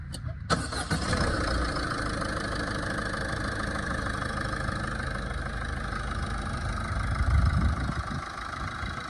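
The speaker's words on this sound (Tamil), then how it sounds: "இப்போ நான் வண்டி ஸ்டார்ட் பண்ணுறேன்." A Ford Aspire car engine, freshly fitted with a new timing belt, cranks briefly and catches, then settles into a steady, close idle with a continuous hum for several seconds and no speech.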